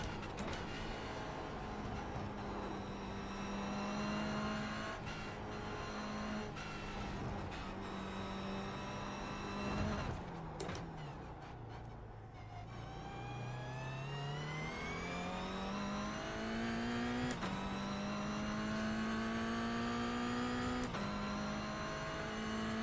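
A powerful rear-drive race car engine with high torque holds a steady drone as the car runs a bumpy track, dipping as it slows, then climbing again through rising revs, loud and continuous with no talk.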